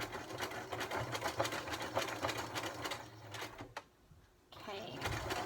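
A sewing machine stitches down fabric ear loops in a steady rapid clatter that runs most of the time, breaking off briefly near the end before resuming, with a voice talking over it.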